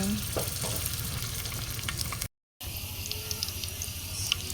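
Food crackles and sizzles in hot oil in a home kitchen at night, a close, steady frying hiss with faint stirring, broken by one short silent gap midway.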